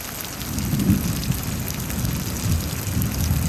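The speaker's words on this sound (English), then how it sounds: "sounds like some angry deity lightning is going on. I mean, angry deity thunder." Heavy thunderstorm rain in Houston, Texas, a steady dense hiss of rain with a deep low rumble of distant thunder swelling and rolling underneath throughout, no voices.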